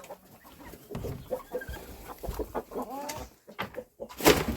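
Chickens cluck and squawk close by, a busy barnyard chorus with rustling and a few sharper calls throughout.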